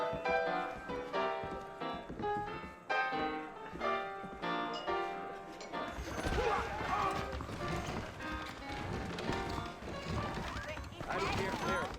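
Horse hooves in the video game Red Dead Redemption, a brief spell of clip-clop steps and thuds followed by a busier, louder stretch of hoofbeats and movement noise, mixed with other game sounds.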